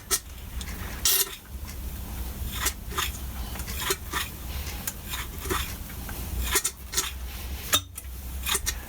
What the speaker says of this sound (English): And just pump it. You'll get oil run out the end of the damper rod.